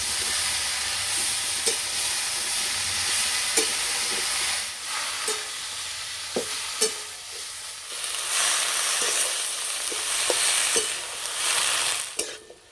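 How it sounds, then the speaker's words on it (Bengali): Greens and potatoes frying in a pan, a steady loud sizzle punctuated by regular scraping and clanking of a spatula stirring against the pan, close up with no voices. "আলুর সঙ্গে শাক একটু ভেজে নিয়েছি"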